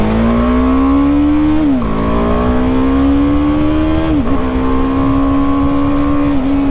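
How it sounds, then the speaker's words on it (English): A BMW G310R motorcycle engine revs hard and loud and close, its pitch climbing steadily through the gears with two brief dips at the shifts and no talking. "engine sounds great."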